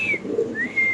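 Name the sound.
pigeon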